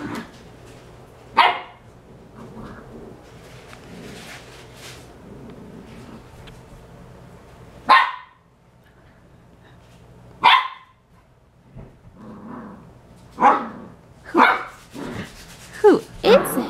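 A puppy barks at her own reflection in a mirror, letting out sharp single barks and yips spaced apart, nearby, with quiet talking between them.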